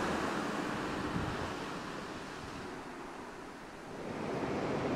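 High ocean waves at Panggung Tibah beach in Tabanan, Bali, a loud continuous roar of surf with swelling and easing breakers, mixed with wind buffeting the microphone, no talking.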